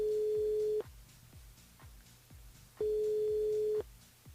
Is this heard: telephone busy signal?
yes